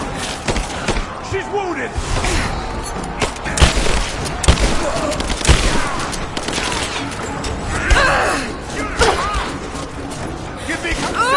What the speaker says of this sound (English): Taking fire! Give me clear! I'm under fire!